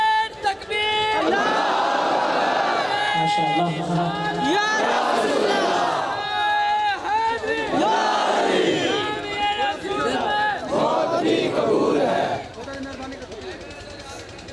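A large crowd at a Muharram religious gathering roars a slogan response in unison, loud and sustained, with repeated swelling shouts and chants mixed with a voice leading over a PA.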